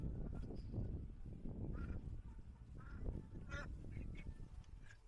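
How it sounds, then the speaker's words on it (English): Ducks or similar birds at a Punta Cana beach resort in the Dominican Republic call with scattered honks and quacks, faint and fairly distant over steady outdoor rumble. "So this is where you can find all the birds hanging out."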